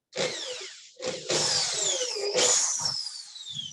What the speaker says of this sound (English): I'm going to go ahead and drill this hole